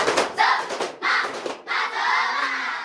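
Group of children shouting a rhythmic clapping chant in a classroom lesson, bursts of voices and claps in quick rhythmic phrases, close and lively.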